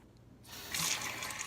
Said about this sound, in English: The first thing you need to do is wet your hands with water.